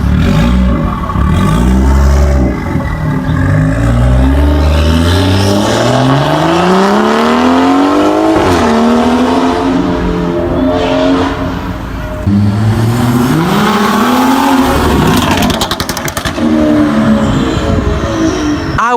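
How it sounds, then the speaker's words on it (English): A BMW four-door 4 Series with a B58 engine revs hard again and again, its pitch sweeping up and dropping back, loud and close with a raspy exhaust note. "it has BMW's B58 motor, and just the sound of this car is insane"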